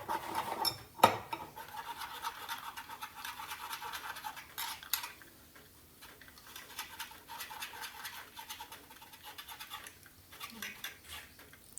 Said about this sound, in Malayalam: ചണ്ടിയൊന്നും ഇല്ലാതെ നല്ലോണം അരിച്ചെടുക്കാം